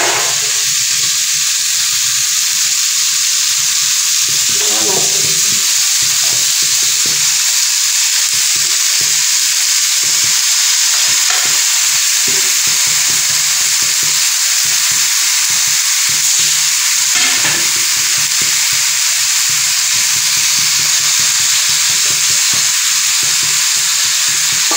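Fish frying in a pan in a home kitchen, a loud, steady hiss and crackle of hot oil throughout, with occasional stirring clatter and faint background sounds.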